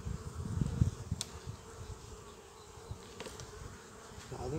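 Honey bees buzz around an open beehive in a low, continuous drone, faint and close, with occasional louder passes of individual bees and no talk.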